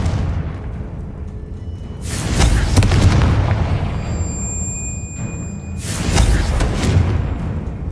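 Confringo blasting spells detonate in Hogwarts Legacy, two loud booming bursts a few seconds apart, each with a sharp crackling onset and a rumbling tail over steady background noise.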